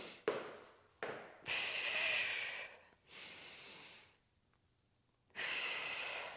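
Heavy, forceful breathing from a person doing dumbbell shoulder presses: sharp inhales and long, loud exhales in a repeating rhythm, close up and with no talking.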